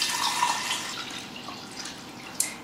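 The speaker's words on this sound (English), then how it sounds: "so I'm going to filter the milk" Fresh goat milk from a goat named Gracie trickles and drips steadily through a filter into a pot, a soft continuous liquid pour with a brief splash near the end.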